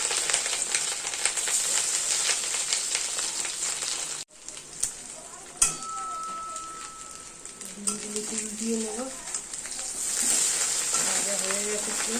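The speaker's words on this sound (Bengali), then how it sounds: "মাছের ডিমগুলো ভেজে নেবো এক এক করে এত ফাটে দিতেই ভয় লাগছে" Fish roe sizzles and crackles steadily in oil in a pan, with sharp pops and spatters, while someone talks over the frying.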